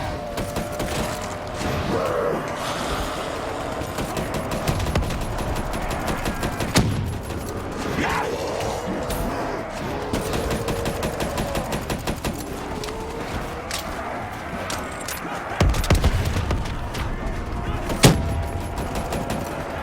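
Spike gun fire in a nightmare-mode video game: rapid bursts of sharp mechanical shots with metallic clanks and impacts, crackling in uneven volleys for about twenty seconds, with occasional louder blasts and a voice talking now and then.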